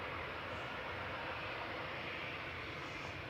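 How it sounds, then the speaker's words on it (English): An Aer Lingus Regional ATR 72 turboprop takes off at Manchester Airport with a sustained broadband propeller and engine roar, loud and steady and heard alone. "So noisy prop going first."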